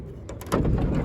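The sliding door of a 1993 Toyota Previa rolls along its track and shuts with a heavy thud, a single close, loud rumbling slam after a brief scraping lead-in.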